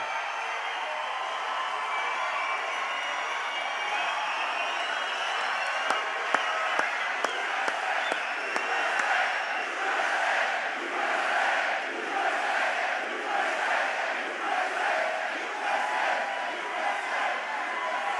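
A large crowd at a presidential campaign rally in Newton, Pennsylvania cheers, shouts and applauds steadily, a dense sustained roar with scattered claps and yells throughout, no clear speech over it.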